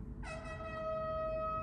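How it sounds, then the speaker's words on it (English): Vehicle horns blare from a street outside, starting abruptly after a brief pause and holding as a sustained, layered honk that grows steadier and louder through the end. "You hear the honks just when I said that."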